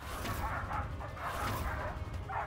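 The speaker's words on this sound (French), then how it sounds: "J'entends beaucoup de chiens aboyer à côté de moi et ça me fait peur." A group of dogs barks and yelps in overlapping bursts against a constant noisy background, fairly close.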